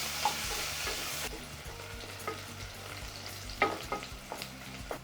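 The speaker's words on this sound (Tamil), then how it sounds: "அதையும் சேர்த்துக்கிறேன் வெங்காயம் நல்லா வதங்கணும்" Steady sizzling from a hot pan, with occasional scrapes and clinks of a spoon stirring the frying onions.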